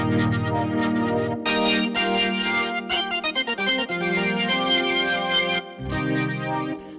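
A gritty, overdriven rock organ sample plays sustained chords with a swirling chorus effect, loud and continuous, with a brief shift in texture partway through.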